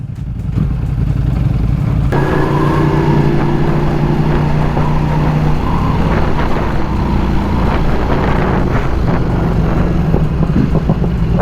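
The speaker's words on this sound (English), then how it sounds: "Unbelievable how the exhaust changes the bike." A Ducati Panigale superbike with an aftermarket exhaust roars loudly and continuously up close, with heavy wind buffeting and rising engine tones as the bike rides.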